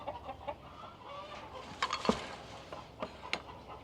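Chickens cluck and squawk near a backyard coop, with several short, fairly close calls scattered irregularly and one louder burst in the middle.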